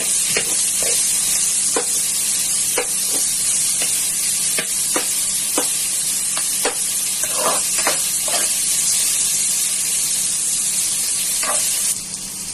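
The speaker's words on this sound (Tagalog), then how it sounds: "Lagyan na po natin ang ating luya. Lagyan po natin siya mag-golden brown ng konti." Ginger frying in a pan until golden brown, a steady loud sizzle with repeated scrapes and clinks of stirring throughout, tapering off at the very end.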